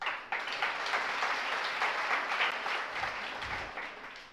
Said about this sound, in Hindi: ताली बजाने से काम नहीं बनेगा,